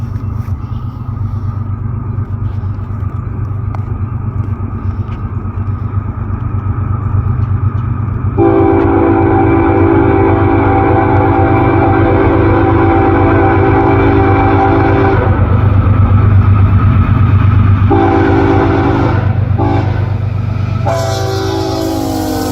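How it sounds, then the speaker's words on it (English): CSX M363, a freight train led by Conrail Heritage locomotive number 1976, rumbles past loudly with a steady engine drone and clanking cars, and sounds several long blasts of its horn. "I saw CSX M363 heading towards Avon, with CSX Conrail Heritage number"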